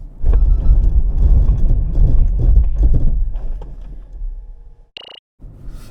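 A 2023 Range Rover Sport, on-road model on all-season tyres, brakes hard during a road test: loud close rumble of engine and road noise fading as the car slows, then a brief high tone and near silence.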